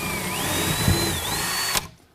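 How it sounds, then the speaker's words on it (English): A power drill bores a 3/16-inch hole through a wood support during an over-the-range microwave installation, a steady high whine that shifts pitch under load for nearly two seconds, then cuts off abruptly. "3/16 is what I would recommend to drill out your hole for your screws"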